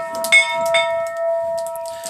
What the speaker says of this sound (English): And now it's time to ring this bell.